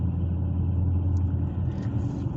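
A Dodge 392 muscle car engine pulls under light throttle, a steady low, loud rumble with a faint rising edge near the end, with no talk.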